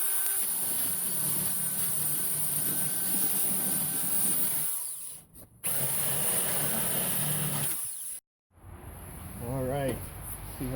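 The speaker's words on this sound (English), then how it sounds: "Good tool for this is a flap disc, not a grinder." A flap disc grinds down rusty metal on a C10 truck during restoration, a loud continuous whine that is briefly interrupted twice. A voice speaks faintly near the end.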